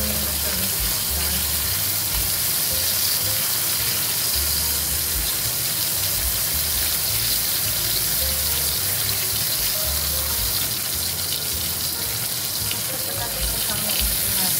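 Dried salted fish frying in a pan, a continuous close hiss and sizzle of hot oil that holds steady throughout, with faint talk in the background.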